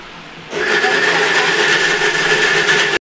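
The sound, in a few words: mixer grinder grinding green peas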